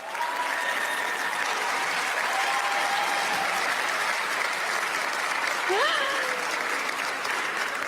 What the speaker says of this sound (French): Merci d'applaudir notre mascotte.